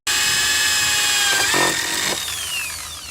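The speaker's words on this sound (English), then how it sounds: "All right, let's drill some holes." A power drill whines steadily as it bores holes through the metal inner panel of a 2006-2010 Saturn Outlook rear door for speaker mounting, pitch shifting as pressure changes, loud and close with no talking.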